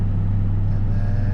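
A pickup truck engine held against the brakes and revving toward 2,000 RPM, a loud steady low drone close by with no voices over it.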